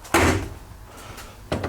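Door on an MGA car swung open or shut, two sharp close knocks with a quiet gap between, no voices.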